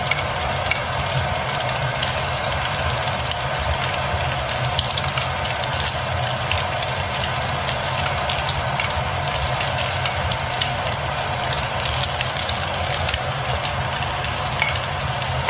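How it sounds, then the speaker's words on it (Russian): Carrots frying in a pan for a home-style Russian roast, a loud, dense, continuous sizzle and crackle close up, steady throughout with no voices over it. "Начинаем все хорошо обжаривать."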